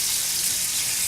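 A cod fillet flips in a frying pan, a steady close hiss of sizzling oil that holds evenly and loudly through a brief moment.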